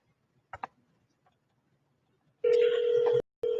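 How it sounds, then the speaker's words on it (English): A few faint clicks, then a telephone ringback tone: one steady buzzing ring, a brief gap, and a second ring starting. "Okay, it's ringing."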